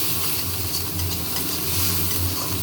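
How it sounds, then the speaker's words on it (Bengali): Ground cumin sizzles and is stirred in a hot pan with ginger for a quick home-cooked dish, giving a close, steady frying hiss with soft scraping and no speech. "আর দিচ্ছি জিরে গুঁড়ো ভালো করে কষে"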